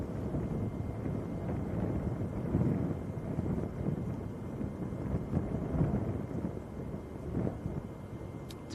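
Breezy westerly wind buffets the microphone outdoors at Manchester Airport, a steady low rumbling roar with gusty swells throughout, no voices.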